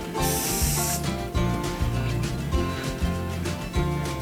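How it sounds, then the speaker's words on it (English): 77 spray glue hisses out of an aerosol can in one brief, steady burst lasting under a second while batting is attached during leather ottoman upholstery, then stops, with background music continuing underneath. "with the same 77 spray glue,"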